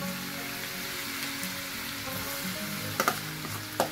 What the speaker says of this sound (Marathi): इथे तेल मस्त तापलेलं आहे आणि त्याच्यामध्ये आपल्याला टाकायची आहे ती पहिली लसूण